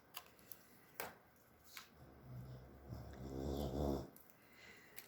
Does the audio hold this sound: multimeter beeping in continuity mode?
no